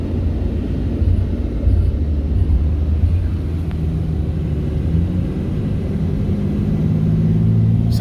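A Dodge Ram truck engine hums steadily after an engine flush and differential fluid change, a smooth low drone heard from inside the cab with constant road rumble and no voices.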